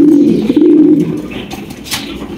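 Pomeranian pouter pigeons, a breeding pair, coo close by in a low, steady warble that fades toward the end, with no voices over it.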